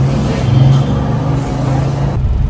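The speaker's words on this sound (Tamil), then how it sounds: "கோயம்புத்தூரில் பாருங்கள் எவ்வளோ டிராஃபிக் இருக்குது" Loud, continuous street traffic in Coimbatore, India: car and bus engines rumble and pass close by in a steady low drone, with no clear speech.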